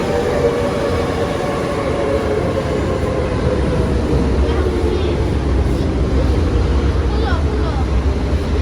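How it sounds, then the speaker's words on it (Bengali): Steady low rumble of a metro train running in Belgium, a constant mechanical drone filling the space, with faint voices underneath. "আমাদের মেট্রো এসে পড়েছি আমরা মেট্রো দিয়ে এখন যাবো"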